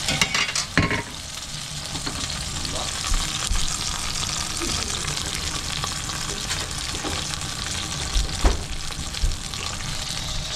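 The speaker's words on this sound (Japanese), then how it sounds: "ちょっと鯛がいい音がしてきたので" Sea bream sizzles steadily in a hot pan, a close, continuous crackling hiss with occasional sharper pops and small clinks.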